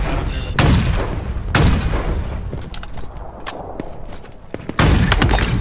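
Gunfire in the video game Halo Infinite during a custom match: heavy, booming shots and bursts hit close and loud in irregular clusters, with quieter rapid fire between them.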